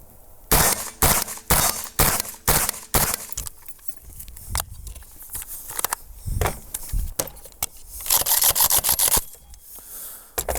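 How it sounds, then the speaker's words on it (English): Suppressed AK rifle fired in a quick string of sharp, dampened cracks, a rapid burst of seven or so shots followed by scattered slower shots and a second faster burst, close and loud. "AKs do work well with suppressors, and to prove that, we'll go ahead and we'll shoot this"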